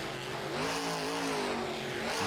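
A monster truck engine revs through a freestyle run in Toronto, a fairly faint, continuous roar whose pitch rises and falls as the truck is worked inside the bounds, with no voices over it.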